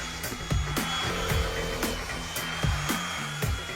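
Two household vacuum cleaners rigged into a wall-scaling device run with a loud, steady motor roar, while sharp periodic knocks and clicks recur over the drone.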